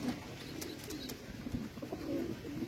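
Flying-ready Kalsera and Lalsera pigeons coo softly and repeatedly at close range, their low murmuring calls overlapping against a quiet background with no talking.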